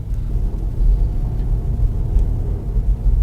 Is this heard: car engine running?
yes